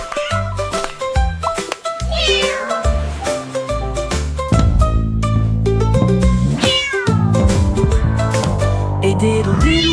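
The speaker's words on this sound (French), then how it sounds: "Le chat miaula bruyamment" Cartoonish cat meows rise and fall several times inside a bouncy French children's nursery song, sitting loudly among the instruments and sung melody.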